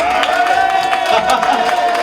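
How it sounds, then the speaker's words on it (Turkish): A crowd at a Galatasaray championship celebration in Ballıkuyu claps and cheers steadily for a couple, with a dense wash of applause and a sustained whistle or tone running through it. "Bir alkış daha"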